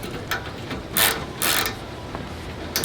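A wrench ratchets while tightening bolts on a Quartermaster bed cage fitted to an Ineos Grenadier truck bed, giving close mechanical clicking in short bursts with a few louder metallic ratchet runs.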